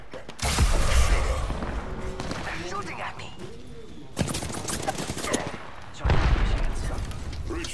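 Apex Legends gunfire comes as bursts of automatic shots with thumping impacts, loud and close, separated by quieter gaps, while a voice talks over part of it.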